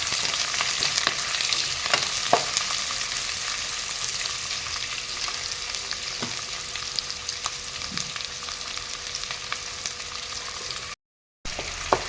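Spice paste for chicken curry with carrot fries in a pan with a continuous sizzle and occasional stirring scrapes, dropping out briefly near the end.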